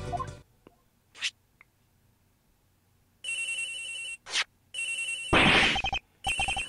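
A phone rings in the video game Ace Attorney Investigations, with bursts of electronic telephone ringing separated by short gaps and brief blips, loud and alone against near silence.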